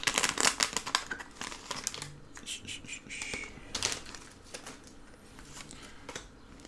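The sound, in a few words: tearing open a Pokémon booster pack wrapper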